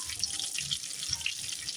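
Water is poured into a pan of traditional-style brinjal curry, a short, steady splashing close by with no talk.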